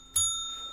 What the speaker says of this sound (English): Little bell ring